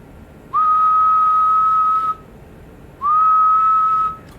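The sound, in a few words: whistling into a microphone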